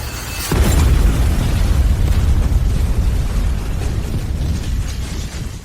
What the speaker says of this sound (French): Une explosion s'est produite.